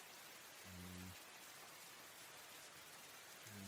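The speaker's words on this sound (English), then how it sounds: "Now it's going to play the other rain, and it's fucking hammering it down." Heavy rain in a forest scene, played as a sound effect during a tabletop role-playing game, a steady broadband downpour that stays faint and even throughout, with brief low hum-like tones near the start and end.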